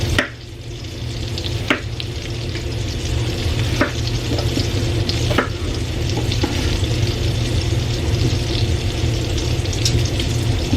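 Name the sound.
onion frying in a pan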